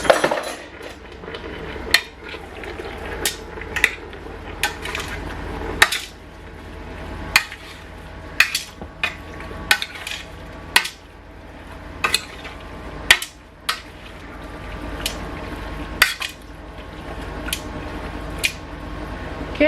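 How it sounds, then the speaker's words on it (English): A spoon stirs food in a large cooking pot during bulk meal prep, giving loud metallic clinks and scrapes in irregular bursts at close range over low background noise. "so I've given it a quick stir"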